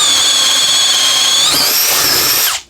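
A power drill with a half-inch all-metal chuck bores steadily with a self-feeding auger bit, a loud sustained whine that rises in pitch, then quickly spins down and stops.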